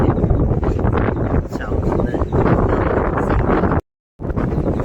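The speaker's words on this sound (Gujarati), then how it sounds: "જબરજસ્ત પવન ખાતો છે." Strong wind buffets the microphone in a loud, continuous roar on a hilltop road at Don, Gujarat, with a brief dropout near the end before the gusting resumes.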